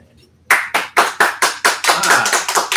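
A quiet moment, then a burst of hand clapping starts and builds into steady applause, several pairs of hands clapping close by.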